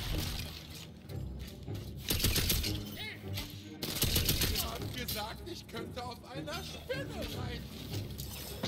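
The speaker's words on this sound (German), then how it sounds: "Oh, ich kann auch 4 Schüsse machen." Gunfire in the video game Tiny Tina's Wonderlands, with repeated shots and shattering impacts over loud action effects, with someone talking throughout.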